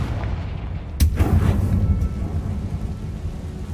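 A Confringo fire spell in Hogwarts Legacy goes off with a single heavy booming blast, followed by a rumbling tail over constant low game background.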